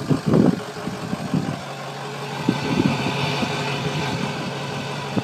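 A 2004 Ford 6.0 Powerstroke diesel with bad injectors idles at a steady, moderately loud rumble, with a few brief knocks and clatters standing out near the start.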